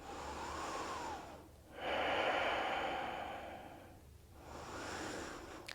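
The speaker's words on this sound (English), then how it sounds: "We just take 2 full breaths here." Two slow, full breaths during a yoga practice, each a long airy inhale and exhale swelling and fading, close and soft, with no talking.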